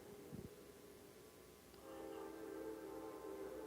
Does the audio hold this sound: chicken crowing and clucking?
no